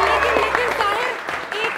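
Studio audience clapping on a live Pakistani TV morning show, a short burst of applause blended with a voice talking over it.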